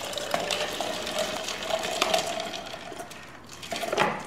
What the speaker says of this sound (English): Top up with cranberry juice.